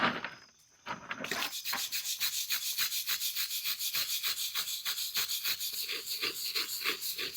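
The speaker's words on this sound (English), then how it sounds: "Just using a steel brush." Steel brush scrubbing concrete off marbles set in a concrete stepping stone, a steady series of quick raspy strokes following a brief pause, close and alone.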